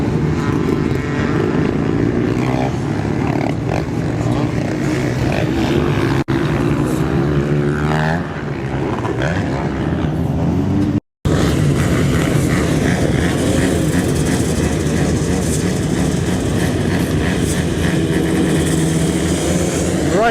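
Motocross dirt bikes in a veterans' 30-39 race roar loudly and continuously at the Lakes track, their engines revving and droning close by without a break.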